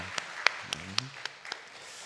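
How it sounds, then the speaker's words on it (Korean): A few scattered, separate claps from a congregation during a Korean church service, quiet and sparse, fading after a couple of seconds. "하나님께 감사의 영광의 박수를 올려드리겠습니다"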